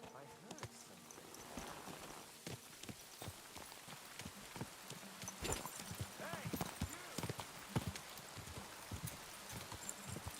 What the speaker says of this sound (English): It's just me, my good sir, calling upon my horse